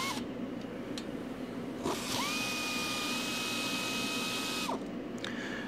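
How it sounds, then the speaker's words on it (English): A power tool whirs on a 14 mm socket, removing the front brake caliper bolts of a 2008–2013 Toyota Highlander, in one sustained whine of a few seconds framed by short clicks, close and clear. "So now we're going to remove using a 14 millimeter socket to remove the caliper bolts"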